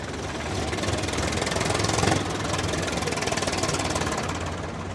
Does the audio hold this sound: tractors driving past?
yes